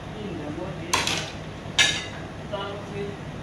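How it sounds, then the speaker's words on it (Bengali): Rice being stirred in a cooking pot with salt added, two sharp metallic scrapes and clinks of the spoon against the pot over a steady background hiss. "আবার একটু নাড়া দিলাম"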